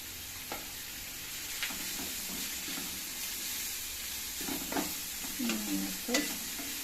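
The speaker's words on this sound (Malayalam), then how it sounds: "നമുക്ക് നല്ലപോലെ മിക്സ് ചെയ്തിട്ട് ഇത് വാടുന്ന വരെ അടച്ച്" Sliced onions sauté in a pan with a pinch of salt, giving a steady, moderately quiet sizzle. Stirring scrapes and clatters come through at intervals, busier toward the end, with no talking.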